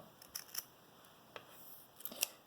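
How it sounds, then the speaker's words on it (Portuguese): Scissors snipping the fabric corners of a lined bag, a handful of short crisp cuts in quick uneven clusters, close and quiet in an otherwise still room. "Agora, eu vou pegar a tesoura e eu vou cortar as pontinhas"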